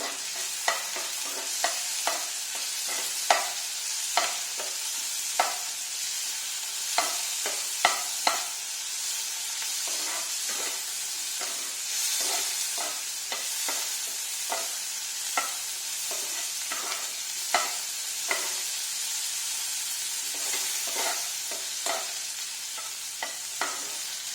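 Shrimp sizzling with salt in a frying pan, stirred with a spatula in repeated scraping clicks against a steady hiss of frying, close and alone without any voice.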